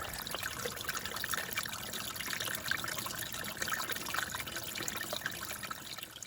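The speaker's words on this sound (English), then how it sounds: "I'm sitting here at a water source, a spring at Bake Oven Knob Shelter." Spring water at Bake Oven Knob Shelter on the Appalachian Trail trickles and splashes steadily, a soft continuous burble close by with no voices.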